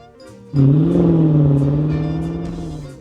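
A car engine starts abruptly and revs loudly, then settles into a steady, slowly fading hum as it pulls away, close and alone.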